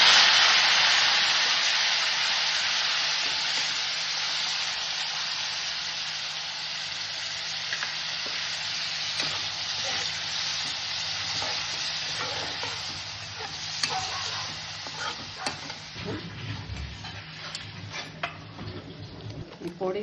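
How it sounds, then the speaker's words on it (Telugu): Chili-laced gravy for stuffed tomatoes bubbling and frying in a pan, a steady broadband sizzle with scattered ticks of stirring, getting busier with clinks and spatters toward the end; no talk. "ఈ గ్రేవీ ఉడుకుతోంది"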